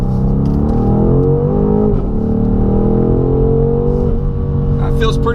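A BMW M850i pulls hard through a quarter-mile acceleration run, its engine note rising steadily in pitch with brief dips at gear shifts, loud and close from inside the cabin throughout.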